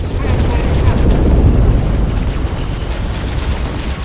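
Carpet bomb strikes in Halo Wars land as a dense, continuous rumble of heavy explosions, loud and booming throughout with no clear gaps between blasts.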